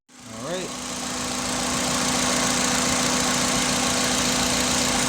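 A Kia Rio engine cranks and catches, then settles into a steady, loud idle with an even mechanical hum and faint vibration, continuing close by for several seconds.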